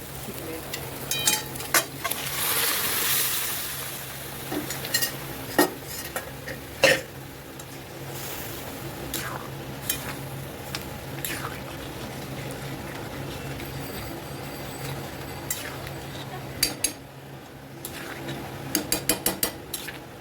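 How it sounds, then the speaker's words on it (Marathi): Mutton goes into a pot of hot masala and oil, with scattered clinks of a spoon against metal, light stirring and soft sizzling, plus occasional coughs between quiet stretches of kitchen noise. "याच्यामध्ये आपण मटण टाकू."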